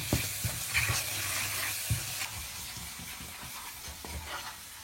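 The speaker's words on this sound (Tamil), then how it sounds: "இன்னும் ஒரு 2 மினிட்ஸ் நல்லா இதேமாதிரி சுண்டை வதக்கலாம்" Raw mango mixture sizzles steadily as it sautés in a pan for mango rice, with repeated scraping and clinking of a spoon stirring through it up close.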